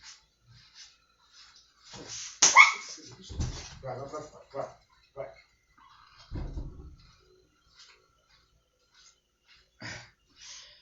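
Pet dogs released from a locked bedroom bark and whimper in short, scattered bursts, a few louder yelps mixed with faint whines, while someone speaks intermittently nearby.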